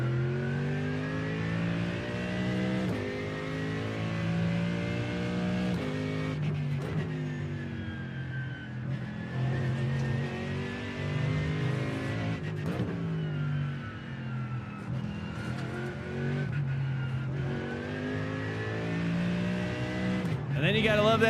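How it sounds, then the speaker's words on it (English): Racing-car engine in the iRacing sim, a GT3 machine, drones loudly and continuously with rising and falling revs through gear changes, close and steady throughout, with a sharp burst near the end and a voice talking faintly over it. "And then you gotta love that engine sound"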